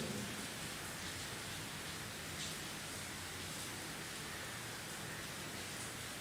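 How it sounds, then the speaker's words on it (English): Rain falling steadily outdoors, a constant soft hiss with no pauses, faint and even throughout. "But look at the rain now. The rain started."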